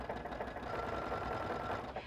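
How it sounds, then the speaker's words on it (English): A sewing machine runs steadily while stitching knit fabric, a continuous close motor hum with rapid needle rattle throughout. "As I'm sewing this stitch, I'm pulling a little tiny bit against the presser foot so that I get a nice clean seam"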